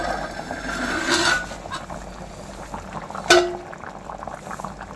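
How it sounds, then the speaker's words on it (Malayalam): A pot of food boils vigorously on a gas stove at home, with steady bubbling and brief louder sputters. "നല്ല ഭയങ്കര തിളച്ചു."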